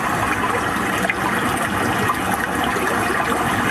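Water ambience played through a speaker, a continuous dense rushing, gushing wash of water that stays steady and fairly loud throughout.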